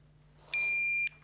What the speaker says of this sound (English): So fingers on the buzzers, and here we go.